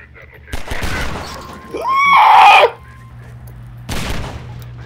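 Gunfire from the video game Half-Life 2 comes as two loud, sharp bursts several seconds apart, with a shrill, wavering creature-like cry rising between them over a low game ambience.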